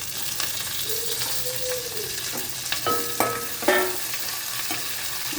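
Sliced onions, green chillies and curry leaves sizzling in oil in a pan for an egg masala, stirred with a few scraping and clinking strokes over a steady fry, close with no voices.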